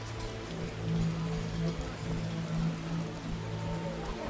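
Steady rain pours down in The Witcher's Vizima Temple Quarter, a continuous close hiss of drops on surfaces with a low hum beneath, no voices.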